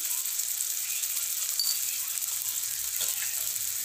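Chilli powder, turmeric and chopped green chilli fry in a pan for a soya chunk curry with a steady, close hiss and sizzle, broken by a faint stir or two and no talking.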